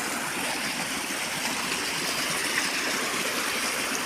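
Strong rushing water flowing across one side of a road after a landslide, a loud, dense, unbroken roar that fills the whole clip with no pauses.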